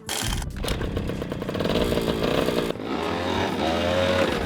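Stolen recovered moped fitted with a £2,000 Aliexpress 125cc race engine, buzzing loud and high-pitched, revving up and down and then settling into a rough idle, close by.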